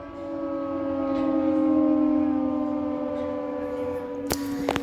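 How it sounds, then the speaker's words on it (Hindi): A long wailing dam warning siren at Omkareshwar holds a steady droning tone, swelling and easing slightly, followed by a couple of sharp knocks near the end. "ये आवाज़ है सायरन की"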